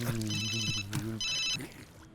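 A phone rings in a Telugu-dubbed love action comedy film scene, giving two bursts of electronic ringtone over a low steady hum, with no talking.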